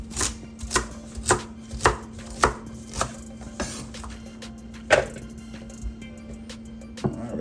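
Knife chopping celery on a cutting board for a green seasoning, about a dozen crisp, uneven chops close up, with a steady low hum underneath.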